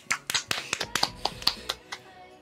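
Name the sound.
applause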